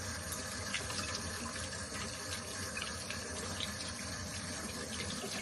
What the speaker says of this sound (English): So I've got my filter here. That's the bottom. I'm just rinsing this off.